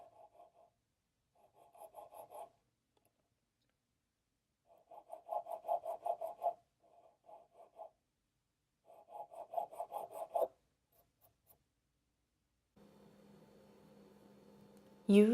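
A reed being scraped with a blade on a tapered mandrel, giving soft, dry rasping strokes in short separated bursts, quiet and close, with a low hum entering near the end.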